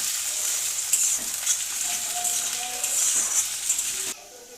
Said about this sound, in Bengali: পেঁয়াজ আর আলু ভালো করে ভেজে নেব।